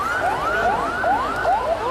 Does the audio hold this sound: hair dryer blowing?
no